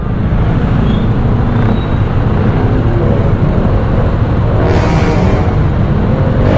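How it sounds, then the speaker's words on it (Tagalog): Road traffic rumbles steadily around a motorcycle on a Friday in Villasis, Pangasinan, a constant loud wash of engine and wind noise with a brief hiss near the end. "Friday, traffic."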